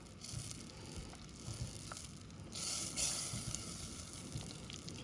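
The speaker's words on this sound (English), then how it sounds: "And we'll melt down our butter. So melt down your butter." Butter melts in a pan on a medium-heat stove, giving a faint, soft sizzle with light crackles and a brief louder hiss midway.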